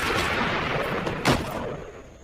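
Gunshot in the horror film No One Lives, a single sharp burst with a rushing noisy tail, near and loud within a dense, busy film soundtrack.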